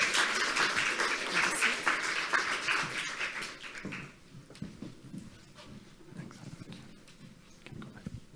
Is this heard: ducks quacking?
no